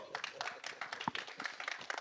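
An audience claps at a film trailer launch for Jatt & Juliet 3, giving a quiet, scattered round of applause with uneven hand claps close by.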